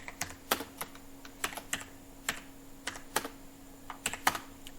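Computer keyboard typed on while entering a house number into an India Post GDS online application form, a string of irregular close key clicks with small pauses, moderately loud over a faint steady hum, with no speech.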